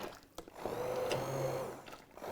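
A kitchen mixer whirs steadily for about a second and a half while blending a burger mixture in a pan, one continuous motor hum with a sharper start, close and fairly loud.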